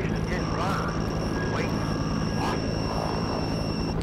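A helicopter in the video game They Are Here drones with a constant loud rotor and engine hum, with faint swooshing bursts over it and a voice talking.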